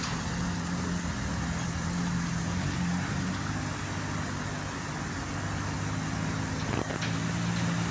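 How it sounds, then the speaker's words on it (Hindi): Heavy road traffic with goods trucks on a busy highway makes a steady, dense roar. Engine drone and tire noise blend into a constant wash, with a brief louder pass near the end. "इस रोड के ऊपर काफ़ी हैवी ट्रैफिक होती है"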